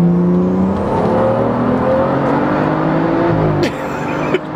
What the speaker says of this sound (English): the turbo spool sound is freaking mental